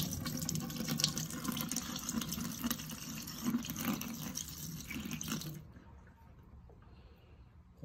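Water pours from a bucket down an RV drain with a P-trap, a loud, steady splashing gush for about five seconds that then stops abruptly, leaving a faint trickle.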